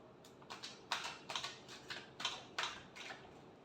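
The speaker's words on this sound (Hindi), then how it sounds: "Last shuffle." Tarot cards shuffled by hand, a run of quick, soft papery riffles and taps in short bursts, fairly quiet and close with no talk.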